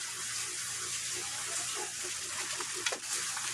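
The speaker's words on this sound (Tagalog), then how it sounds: "At ito po yung hose na gagamitin natin. Lalagyan po natin to ng tubig." A hose pours water steadily into a recycled refrigerator tub being made into a DIY pond, a continuous close hiss and gush with small splashy bursts, no one speaking.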